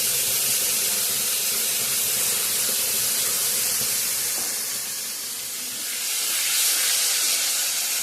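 Spice paste hits frying onions, tomatoes and chilli in a pan, giving a loud, continuous hissing sizzle that dips briefly and then swells again.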